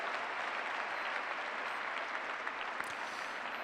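Applause from the audience at a show jumping event in Paris, the Saut Hermès, forms a dense, even patter of many hands that holds steady for the whole moment at a moderate distance.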